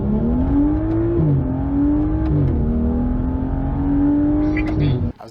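A car launches out of a turn lane, its engine revving up through two gear changes as it accelerates hard, loud and close throughout.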